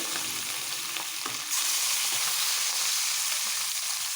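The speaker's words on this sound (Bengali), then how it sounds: "এগুলো তো ভালো করে উল্টে পাল্টে ভেজে নেব" Hilsa fish fry in a new wok, a loud, dense, continuous sizzle of hot oil close by, with a few soft scrapes as the pieces are turned, swelling slightly partway through.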